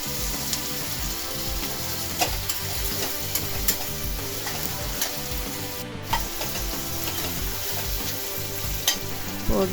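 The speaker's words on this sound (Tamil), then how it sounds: "நல்லா வதக்கியாச்சு. இந்த அளவுக்கு நல்லா வதங்கினா போதும்." Onions and rock salt fry in a pan for a Coimbatore arisi paruppu sadam, producing a dense, continuous sizzle with frequent soft stirring scrapes throughout, and no voices.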